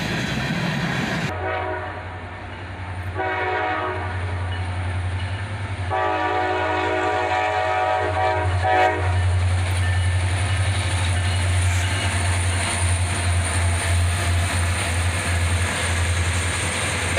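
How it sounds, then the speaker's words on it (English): Freight train led by a pair of SD40-3 locomotives on a cold, snowy winter morning, sounding repeated loud horn blasts over the steady deep rumble of the engines as it rolls close by. "this train, with dual SD40-3, leads on a cold winter morning"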